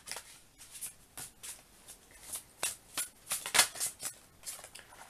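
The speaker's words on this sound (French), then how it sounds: "on va tirer les cartes" A deck of tarot cards being shuffled before a reading, giving a string of quick, crisp riffling and slapping bursts at close range, fairly loud and steady throughout, with no talking.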